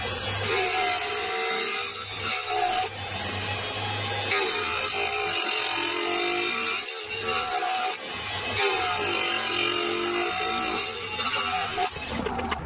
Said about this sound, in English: So now I'm going to use this diamond grinding wheel that I used on the lathe a couple of times to try and bite through the chrome on here,